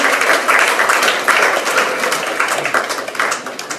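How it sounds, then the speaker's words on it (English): An audience at a school auditorium inauguration applauds loudly, with dense, sustained clapping that fills the whole stretch and eases off only slightly toward the end. "A huge round of applause for Dr. V. Shankar."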